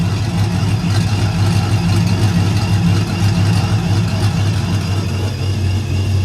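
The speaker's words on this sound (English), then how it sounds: "we're going to close it." A Ram pickup truck's engine idles just after its SPELAB electric exhaust cutout closes, giving a steady, close, deep rumble at constant loudness for several seconds with no voices.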